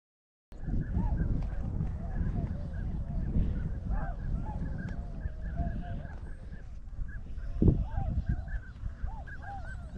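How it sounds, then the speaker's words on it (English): Large waterfowl honk and call at Mattamuskeet in coastal North Carolina, a dense, continuous chorus of distant goose-like honks with one louder burst near the end. "Big ducks back there."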